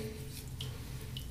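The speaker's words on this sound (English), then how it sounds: "I'm just adding a bit of water to the brush, just dripping it on there, just a little bit." A couple of soft, faint water drips land on a shaving brush, two brief drops spaced about half a second apart over a quiet background.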